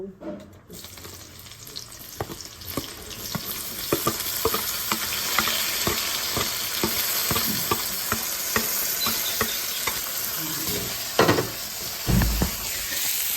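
Onion frying in a pan, a steady bright sizzle with repeated scrapes and clicks of stirring close by, building slightly and continuing with no talk.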